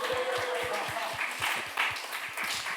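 Rhythmic hand clapping fills a church sanctuary during a Sunday worship service, a steady series of claps over a diffuse murmur of the congregation, moderately loud and close.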